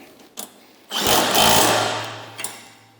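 An impact wrench tightens bolts on a MUSKOX 26-84 snowblower, one burst of loud rattling buzz lasting about a second and a half, close by, with small clicks before and after.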